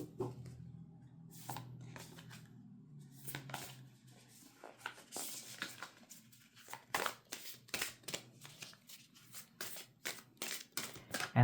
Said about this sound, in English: this deck, in my experience, does like to spend a lot of time being shuffled